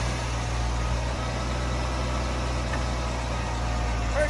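A junkyard Ford Ranger pickup's engine runs with a steady, low idling drone throughout, close and even, with no talking over it.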